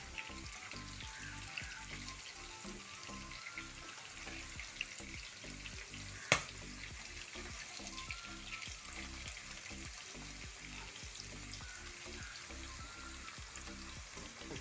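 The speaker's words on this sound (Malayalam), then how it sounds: "ഒരു സൈഡ് കൂടെ ഫ്രൈ ആയി വരട്ടെ" Bitter gourd pieces fry in a pan with a continuous soft, bubbly sizzle, close and fairly quiet, broken by one sharp click partway through and no talking.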